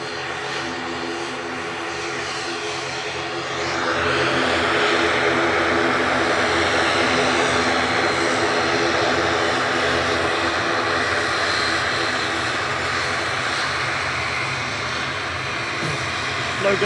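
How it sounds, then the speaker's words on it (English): Loganair ATR 72-600 turboprop departing Manchester Airport for the Isle of Man, a steady droning propeller hum that swells sharply after a few seconds into a loud, even buzzing roar and holds, with faint talk underneath. "Loganers Jeep LMTF heading off to the Isle of Man with flight 694. That's an ATR 72-600."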